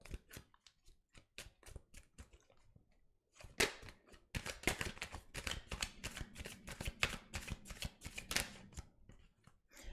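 Tarot cards are shuffled in quick riffling bursts, soft at first and then denser, crisp papery flutters that run almost continuously in the second half of the clip.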